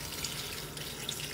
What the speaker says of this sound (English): Now I'm going to water it with my pesticide treatment.